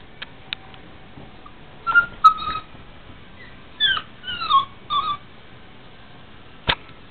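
A puppy gives a few short, high whimpers and squeaky whines in bursts, close and fairly quiet, with pauses between and a sharp click near the end.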